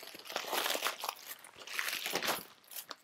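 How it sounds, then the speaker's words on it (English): A knife cuts into the cardboard and plastic packaging of an Amazon Echo Spot box, giving bursts of crunching, crinkling and tearing close by over about three seconds, with no speech. "let's use our knife and try to do unprofessional unboxing"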